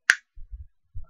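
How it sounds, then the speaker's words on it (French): A single crisp finger snap rings out close and clear, followed by a few soft low thumps. "Le claquement de doigts suffit."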